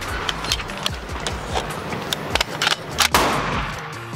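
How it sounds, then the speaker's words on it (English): A few sharp unsuppressed gunshots from a Foxtrot Mike FM-15 Gen 2 rifle with an 11.25 inch upper crack out, spaced irregularly and clustered toward the end, heard alone without talk. "So let's get a couple shots unsuppressed and I'll show you how it shoots folded and unfolded"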